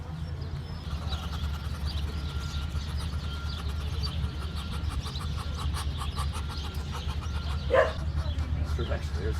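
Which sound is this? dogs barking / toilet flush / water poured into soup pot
dogs barking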